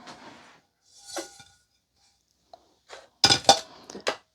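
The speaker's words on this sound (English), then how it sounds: "Time to get our little rack in." A metal rack goes into a Ninja Speedi cooker, a couple of light clinks followed by a cluster of sharper metallic clanks near the end, close and separated by quiet gaps.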